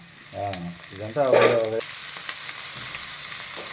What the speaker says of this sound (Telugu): ఇలా క్యాప్సికం వేగిన తర్వాత అవును టమాటో ముక్కలు వేసుకోవాలి ఇలా ఇలా వేయించుకోవాలా